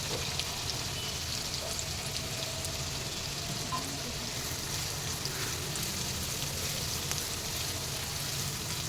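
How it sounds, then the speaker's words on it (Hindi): Finely chopped onions sauté in a kadhai with cumin, star anise and bay leaf over high flame, giving a steady, even sizzle and crackle that carries on without a break and with no talking. "प्याज को हम अच्छे से सौते कर लेंगे"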